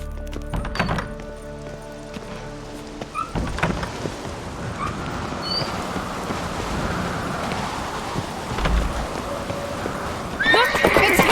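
Horse sounds from The Witcher 3 video game: a whinny and the steady clip-clop of hooves, loud and close over a wash of wind and ambient game noise, with a heavy thunk near the start.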